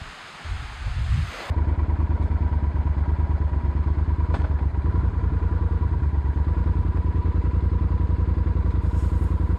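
A motorcycle is ridden off-road on a dirt route through hills. After a brief rustle, the engine starts and runs in a steady, loud, close drone with a fast rhythmic thrum, and no one talks.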